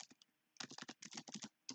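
Quick, quiet keystrokes on a computer keyboard while typing a code comment in an Angular project: a few isolated taps, then a dense flurry of clicks, a brief pause and two final taps.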